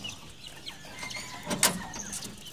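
A rooster on a poultry farm gives short clucks and calls, with one louder burst, against a quiet outdoor background.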